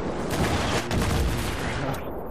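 Sustained, dense machine gun fire from the video game Battlefield 3, loud and continuous bursts layered with battlefield noise, with a voice faintly under the barrage.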